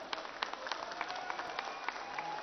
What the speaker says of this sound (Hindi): जोर से गुरु जी के लिए एक बार जोर से ताली